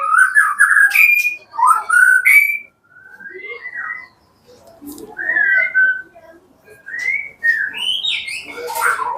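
A caged white-rumped shama (murai batu) sings close by in bursts of clear whistles, chirps and rising trills, with short pauses between phrases.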